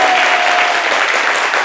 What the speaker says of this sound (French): Je vous invite à nous recevoir sur le plateau sous vos applaudissements